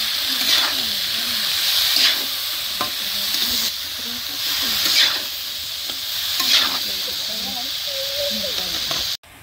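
Taro stolons and young jackfruit sizzle steadily in hot oil with lightly fried onion and green chilli, close and continuous, with rhythmic scraping stirs every second or so and someone speaking softly beneath.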